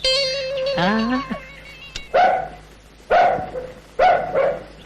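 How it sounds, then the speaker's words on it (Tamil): A dog barks three times in sharp, loud, evenly spaced bursts close by, following a brief whining, rising tonal cry. "எங்க தம்பி நாய் தான் குலைக்குது"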